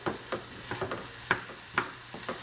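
Swiss chard and mushrooms cooking in a pan over medium-low heat, with a soft, quiet sizzle and a series of light clicks and scrapes as they are stirred.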